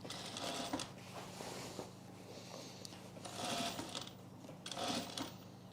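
A sewing machine runs steadily at close range during holiday sewing, its whirring stitching broken by brief mechanical clicks as the stitch length is changed, with no voices.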